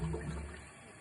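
Water rushes through greywater system piping until it reaches the end cap, a steady close gushing flow that is strongest at first and then eases off slightly.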